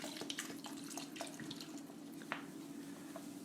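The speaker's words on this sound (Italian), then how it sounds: "Che non è acqua, perché guardate come frizza, guardate, guardate." Fizzy gassosa soda is poured for sangria, giving a soft, steady pouring hiss with small crackling bubble pops. It is quiet and close, with no talking.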